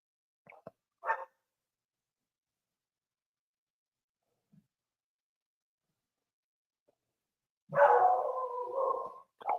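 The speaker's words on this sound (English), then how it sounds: "I wish they'd shut up. I wish my dogs would shut up." Dogs barking in The Oregon Trail game at a campsite: a couple of short, thin yaps early, a long silence, then a drawn-out bark trailing into a whiny howl.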